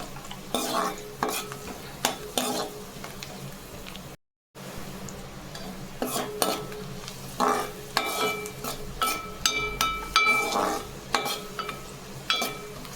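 A spatula scrapes and clatters against a pan in a steady stirring rhythm, over a quiet sizzle of frying food, cooked to a light golden colour for chicken curry.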